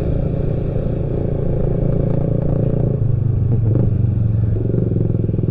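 A motorcycle engine revs and rumbles loudly and steadily on a road near Ciawi and Cicurug, close by with a dense low drone, with nobody speaking over it.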